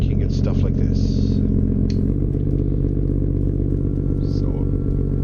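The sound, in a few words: truck engine through aftermarket exhaust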